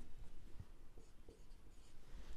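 Pen strokes scratching on paper while an accounting problem is worked by hand, a quiet, close, irregular run of short writing marks with no talk.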